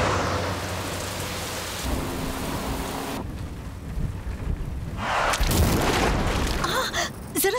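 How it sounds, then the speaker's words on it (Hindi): Heavy rain pours down over a city street with thunder rumbling, a dense steady hiss that swells louder near the end, with a brief low hum early on. "अरे बाप रे, कितनी तेज बारिश है,"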